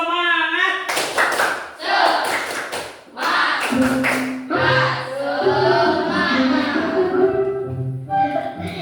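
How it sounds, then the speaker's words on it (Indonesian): A school class does a rhythmic spirit clap in a classroom, loud sharp clapping in patterned bursts mixed with children's voices chanting along. "sebelumnya tepuk semangat"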